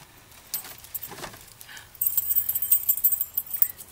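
Keys jangle in short metallic bursts inside a 1955 Pontiac Chieftain sedan, a brighter, steadier rattle of keys taking over in the second half, close and fairly loud.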